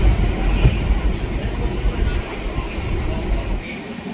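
A passenger train on the Hasimara line rolls along between New Mal Junction and Banarhat, a steady low rumble of wheels and carriage noise filling the space, continuous and close, with faint murmuring in the background.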